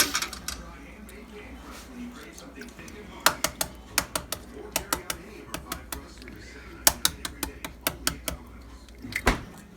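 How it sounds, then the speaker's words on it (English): A small egg cutter slices through boiled eggs with a series of sharp, close clicks and snaps in quick irregular runs, against a light kitchen background. "So cut your eggs in little slices."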